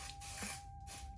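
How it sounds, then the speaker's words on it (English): Short hissing bursts of an aerosol hair holding spray, close by, with a brief pause between them. "I literally just spray it on top of my hair."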